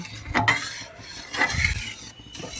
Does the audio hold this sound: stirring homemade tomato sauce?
yes